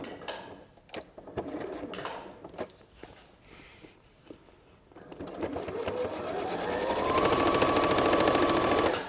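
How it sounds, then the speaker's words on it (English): A sewing machine top stitches along the front edge of a lined fabric pouch, starting in short bursts amid small handling knocks, then running steadily and louder near the end with a rising whine. "I'm sewing along the front edge of the pouch to start with"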